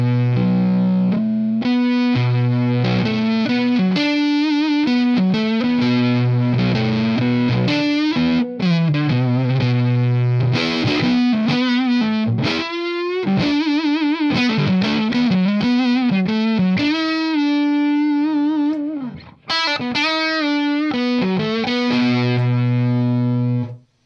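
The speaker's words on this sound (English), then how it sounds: "more of a aggressive type fuzz made by Frantone Pedals" Electric guitar played on the neck pickup through a Frantone aggressive fuzz pedal, giving thick distorted riffs and sustained notes with brief pauses, loud and close without talk.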